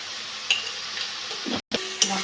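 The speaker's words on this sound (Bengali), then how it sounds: "মশলাটা ভালো করে কষে নেব" Masala with cumin powder fries in oil for aloo matar ghugni, with a few short stirring scrapes over a faint sizzle and one brief moment of silence midway.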